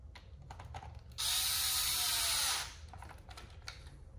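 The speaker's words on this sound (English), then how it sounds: "Get your 2 bottom screws in." A power screwdriver drives screws into a Traxxas Hoss RC truck, giving one loud, steady whirring burst of about a second and a half amid quiet clicks and handling noise.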